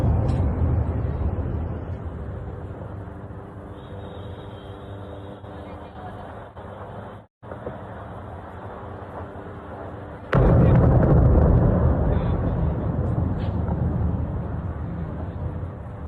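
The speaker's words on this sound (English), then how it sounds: "So we hear booms" Booms from explosions in Beirut carried on a live news feed, heard as a muffled, distant rumble under steady broadcast noise, with a sharp louder burst partway through that stays heavy for several seconds.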